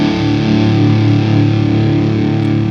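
A big, heavily distorted electric guitar chord from a rock song rings out loud and sustained, a dense wall of saturated tone that holds steady without fading.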